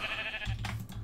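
A sheep in the video game CodeCraft gives a short, close bleat that rises out of a steady game backdrop, one brief wavering call.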